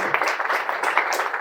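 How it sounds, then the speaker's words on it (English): An audience gives a round of applause to welcome a guest speaker at a talk, the dense clapping steady and close throughout. "You can give him a round of applause."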